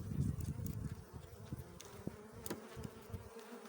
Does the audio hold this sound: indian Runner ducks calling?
no